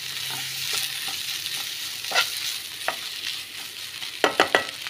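Food frying in a pan is stirred after lemon is added, with a faint background sizzle, soft scraping strokes and a few sharper clacks of the spoon against the pan near the end.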